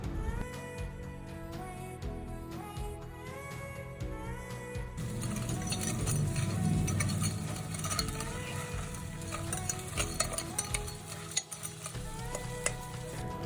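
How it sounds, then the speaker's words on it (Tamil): Crab curry with turmeric being stirred in a pan, a steady sizzle and scraping stir running throughout, with background music over it. "மஞ்சள் பொடி போட்ட அப்புறம் நல்லா கிளறி விட்டுருங்க."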